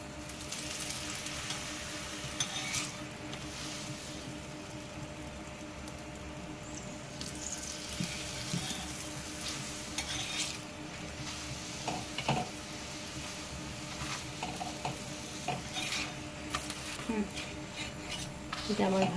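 A carrot and potato paratha fries in oil in a pan, with a steady close sizzle running throughout and occasional clinks and scrapes of a utensil against the pan.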